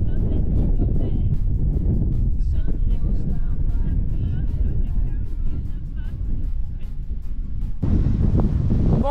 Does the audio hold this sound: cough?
no